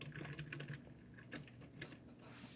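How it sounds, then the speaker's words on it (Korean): Rapid, uneven typing on a computer keyboard, with clustered key clicks and brief pauses, close and fairly quiet, with no voice over it. "타자치기가 힘든데"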